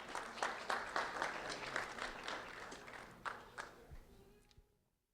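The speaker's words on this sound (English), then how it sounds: "a round of applause for Destiny Sutton" Audience applause for a fourth-grade student at a sheriff's office award ceremony: sustained clapping that swells, then thins out and fades to silence.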